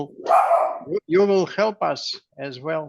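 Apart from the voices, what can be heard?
dog barking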